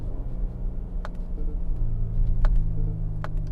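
A 2025 Infiniti QX80 Autograph drives with a low, continuous engine rumble heard from inside the cabin as it shifts down, with a few faint clicks over the steady drone.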